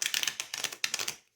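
Oracle cards are shuffled in quick, crisp bursts of riffling and flicking, close and fairly loud, in three or four rapid runs that stop abruptly.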